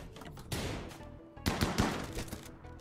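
Shotgun blasts and other gunfire in the RimWorld colony game during a raid, two loud broadband bursts about a second apart amid a busy game soundscape.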